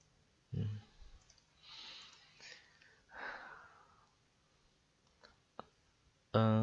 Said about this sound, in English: So I click on the keyboard delete key.